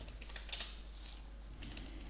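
Quiet, steady typing on a computer keyboard while entering Java applet code, with soft irregular key clicks and a few louder taps, no talking.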